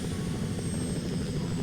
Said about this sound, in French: Non mais trop la classe, l'hélicoptère.